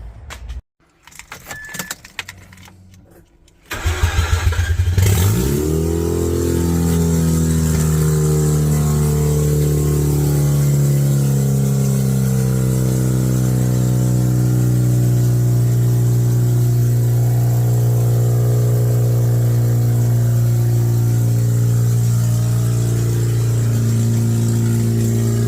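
Mazda RX8 with a replacement rotary engine, keys jangling first, then the engine cranks, fires and settles into a loud, steady close-up idle that runs on without talk.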